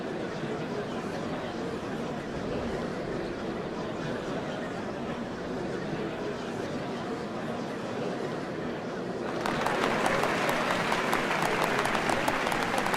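A large crowd at a Final Fantasy XIV ceremony for the changing of the Dawnservants applauds steadily, the clapping growing louder and denser toward the end, with voices mixed in.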